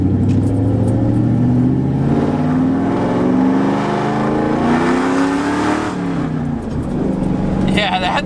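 Straight-piped Ford Mustang with a cam and nitrous revving hard close by, a loud, rough engine note climbing and falling steadily for several seconds with a choppy idle, no talk over it.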